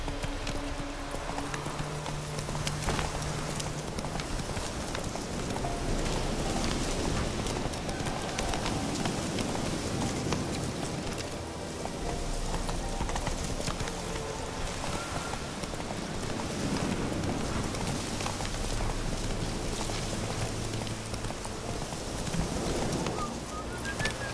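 Roach the horse gallops through rain in The Witcher 3, steady rhythmic hoofbeats under a constant hiss of rainfall, with faint bird calls in the background.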